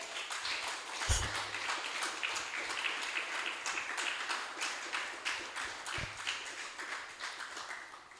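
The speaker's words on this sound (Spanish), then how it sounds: "Denle un fuerte aplauso al Señor" Steady crowd applause, many hands clapping together in a dense, sustained wash with a couple of low thumps.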